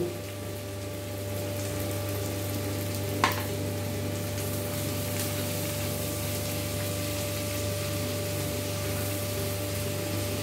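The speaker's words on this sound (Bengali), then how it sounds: "পেঁয়াজ আর রসুনটা একটু হালকা ভাজা ভাজা হলে" Onion and garlic fry in a pan for a chicken stew, giving a steady, continuous sizzle over a low hum, with one sharp clink near the start. No one speaks.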